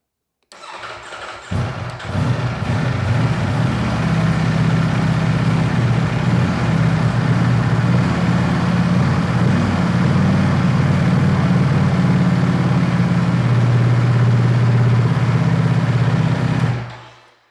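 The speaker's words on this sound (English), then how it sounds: "I will cut on the bike so you can see what it looks like when you start it up" A Ducati V4 motorcycle engine cranks and catches, then settles into a loud, steady, deep idle that runs on for about fifteen seconds before cutting off.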